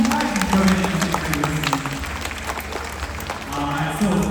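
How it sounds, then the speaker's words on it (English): Audience at a bird show in Singapore Zoo applauds volunteers, brisk scattered clapping swelling and easing over a steady hum from the venue. "they deserve another big round of applause"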